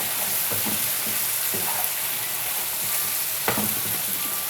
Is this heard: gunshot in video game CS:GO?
no